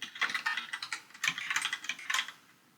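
Fingers type quickly on a computer keyboard up close, a dense run of soft clicking keystrokes in short bursts with brief pauses between them.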